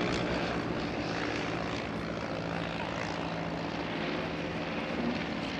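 An Avro 504 training aircraft flying at the RAF Cosford 2018 air show, its propeller engine giving a steady, fairly distant droning roar that holds evenly throughout with no talk.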